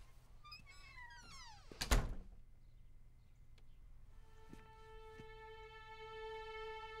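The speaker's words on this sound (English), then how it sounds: "And shut the door." A door is shut with a single sharp thunk near the two-second mark, preceded by a rising tonal squeal and followed by a steady high electronic hum in a quiet room.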